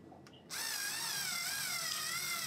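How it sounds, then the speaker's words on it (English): A power drill boring a bolt hole through a clamped wooden stilt for a footrest, starting abruptly after a brief pause and running as a steady, loud, high whine close by. "then you can drill the hole for the second bolt"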